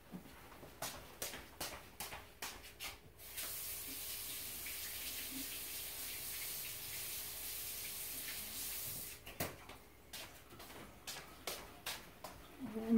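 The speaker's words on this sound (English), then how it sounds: "Let me wash my hands real quick." Tap running into a sink for a hand wash at home, a steady hiss of water for several seconds, framed by soft taps and clicks before and after.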